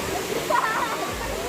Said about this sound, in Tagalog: Lakas ng fountain water.